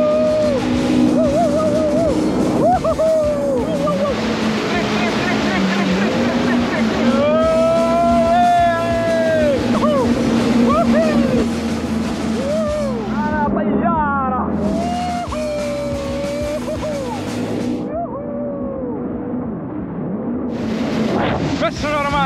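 A jet ski speeding across the sea, its engine whine rising and falling in bursts over heavy wind buffeting and splashing waves, close and loud, with voices shouting over it.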